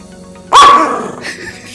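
A pet dog gives one loud, close bark, followed by a shorter, fainter yelp, in a home during a morning Navratri puja.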